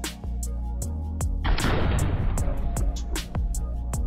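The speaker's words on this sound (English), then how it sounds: "We will take the gunfire as the starting point." A single loud gunfire sound effect played back during an earbud latency test, a sharp broadband burst with a long noisy tail amid repeated clicks, close and dominant.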